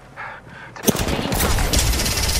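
Rapid automatic gunfire in the Apex Legends video game erupts after a brief quiet moment, a loud sustained burst of shots that keeps going to the end.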